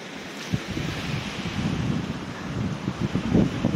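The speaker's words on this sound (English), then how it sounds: "Look how much water's in that river." A river swollen by heavy rain rushes past, flooding over its usual stepping stones, a continuous broadband roar of churning water mixed with gusting wind buffeting the microphone, with no one speaking.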